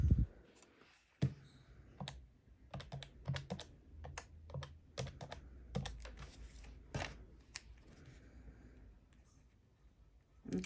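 Calculator keys are pressed one after another at close range in irregular bursts of sharp plastic clicks, with short pauses between entries.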